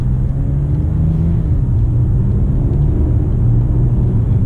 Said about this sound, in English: the slightest throttle, the car just whooshes away